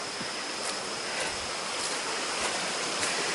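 A creek flows beside a campsite on the Foothills Trail, giving a constant, fairly loud rushing wash of water with no pauses.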